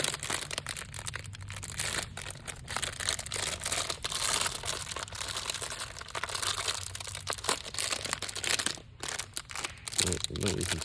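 Crinkly plastic packaging of edible ink bottles rustling and crackling steadily, close up, for about ten seconds with brief pauses.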